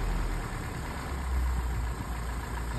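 An old car engine fitted with new spark plugs, ignition coil and fuel filter idles steadily with a loud, close, even low rumble and no voices.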